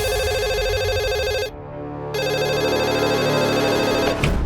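Telephone ringing in a drama scene as the kidnappers' call comes in, a steady electronic ring with a brief break in the middle, loud and close, with no voices over it.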